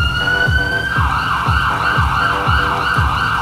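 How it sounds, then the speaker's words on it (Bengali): An ambulance siren wails loudly and continuously in a steady rising-and-falling pattern as the vehicle races toward a district hospital, with a rhythmic low engine or road rumble underneath and no voices. "নিকটবর্তী সদর হসপিটালের দিকে ছুটে চলল অ্যাম্বুলেন্সটা।"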